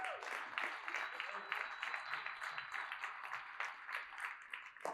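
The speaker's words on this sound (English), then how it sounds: "Let's give Ted a round of applause for this meetup." Scattered applause from an audience filling the room at a real estate investors' meetup in Omaha, soft and somewhat distant, steady for about five seconds, with a few voices mixed in.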